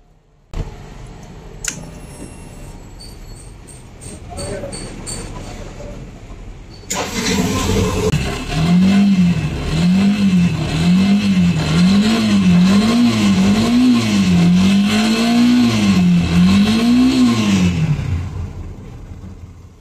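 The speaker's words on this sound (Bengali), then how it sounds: "বাইকের সাউন্ডটা তো নিশ্চয়ই আপনারা শুনতে পারলেন আগে এবং বর্তমানে যে সাউন্ডটা আছে।" A Yamaha FZ V2 motorcycle engine, repaired of a knocking fault, cranks and catches after some faint clicks, then idles and revs in a rhythmic series of rising and falling surges, close and loud.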